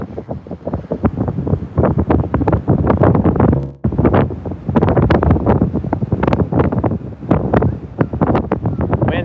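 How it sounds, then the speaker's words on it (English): Strong hurricane winds gust and roar over an outdoor microphone, loud and continuous with rushing buffeting surges and one brief lull. "Winds are already picking up right now."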